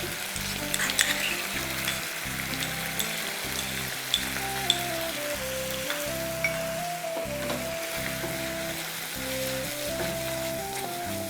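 Soaked poppy seed and cashew paste sautés with mutton for rezala, a loud close sizzle over repeated rhythmic stirring and scraping of the pan, with no talk.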